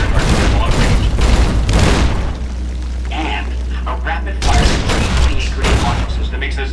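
Heavy booming fire from a securitron's M235 missile launcher and rapid-fire grenade launcher in Fallout: New Vegas, loud repeated blasts in two bursts separated by a quieter stretch, with someone talking over them.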